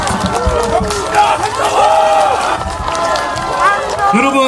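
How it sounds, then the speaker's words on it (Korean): Crowd cheering and shouting at an outdoor Korean election campaign rally in Sinchon, Seodaemun, Seoul, a steady loud roar of many voices with whistles and shouts, mixed with an amplified announcer talking. "다시 한번 뜨거운 함성 박수 부탁드립니다"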